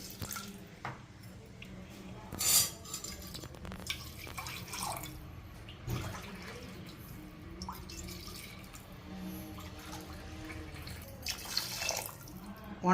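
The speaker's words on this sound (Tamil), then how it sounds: "குக்கரில் போட்டு இப்போ தேங்காய் பால் ஊற்று." Coconut milk trickles and drips into a pressure cooker holding rice, making faint, close, irregular liquid splashes scattered over a quiet kitchen background.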